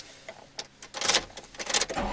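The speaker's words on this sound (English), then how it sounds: "then you can just start up the car" A manual-transmission car is started with the clutch pressed in: a short whirring crank rises into a loud, rough engine catch, heard close up with no talk.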